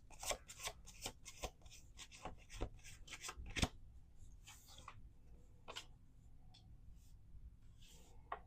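Tarot cards shuffled by hand in a quiet room, a quick series of crisp riffling flutters and soft slaps, closely miked, then slower scattered rustles.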